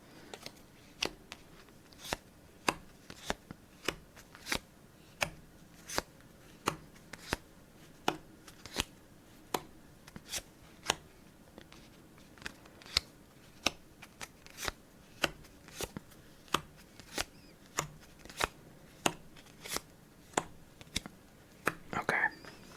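Playing cards snap and slap down one by one in a steady, close rhythm, with brief shuffling and sliding between the crisp taps, in a quiet room during a solitaire layout.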